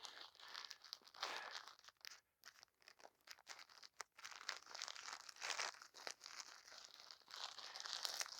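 Ultra fine garden mesh netting, 10 by 33 feet, being unrolled and spread over hoops on a vegetable bed, producing continuous close crinkling and rustling with irregular swells, soft and alone without speech.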